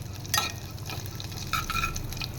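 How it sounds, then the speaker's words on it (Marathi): Cumin seeds in hot oil, about to receive ginger-chili paste: close, crackling sizzle with sharp spluttering pops in two brief bursts over a steady low frying hiss. "पहा जिरं आता कसं फुलून येत आहे"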